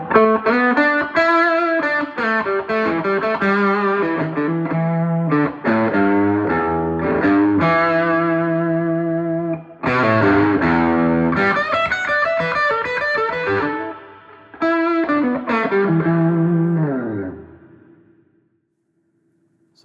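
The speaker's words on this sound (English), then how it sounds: "let's hear some overdrive with the dry and the reverb sound together" An overdriven electric guitar, with the dry and reverb signals blended, plays sustained distorted chords and lines in a warehouse building. Ringing tails close out the phrases before the sound fades to silence.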